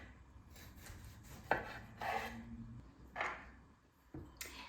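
A knife cuts through a peeled lemon on a board in a kitchen, giving a few separate close slicing and chopping strokes spaced about a second apart, each a short scraping thud with quiet pauses between.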